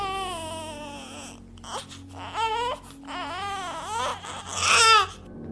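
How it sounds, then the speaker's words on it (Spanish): An infant crying in a horror story, with wavering wails that rise and break into sobs over several seconds, growing more intense and shrill toward the end, heard alone at close range. "cuando escuchó el llanto de un bebé"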